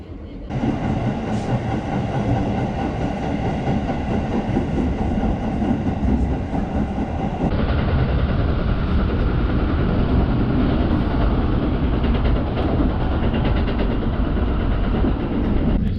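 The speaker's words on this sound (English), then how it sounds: "The train shot across the city with amazing speed" High-speed train crossing Tokyo, a loud steady rumble and rush of wheels on rail throughout, with a shift in tone partway as the car's interior noise changes, occasional faint clatter.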